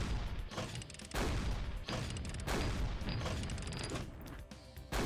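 A flak cannon in a Doom mod fires repeatedly in a heavy, rhythmic run of loud blasts with crashing, metallic bursts, each shot separated by brief gaps, dominating the scene without speech.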